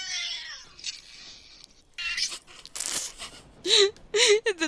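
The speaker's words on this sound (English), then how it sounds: "Angry kitty want them gone now." A cat yowls and growls angrily in several rising, drawn-out wails, close by, with faint rustling and crinkling noises in between.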